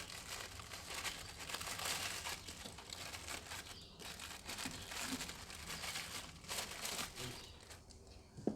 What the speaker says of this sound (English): I'm just literally covering that with a piece of plastic bag